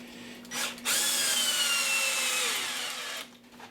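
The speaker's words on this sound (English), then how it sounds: "Screwed that into the corner of the bench." A power drill drives a screw into the corner of a wooden workbench, a short whir, then a steady loud buzzing run of about two and a half seconds before it stops abruptly, heard close with no talking.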